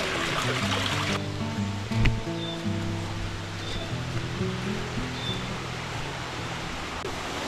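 Water flows along a forest irrigation channel in a steady, close rushing wash. A low droning tone sits under it for most of the clip, and a brief knock sounds near the start.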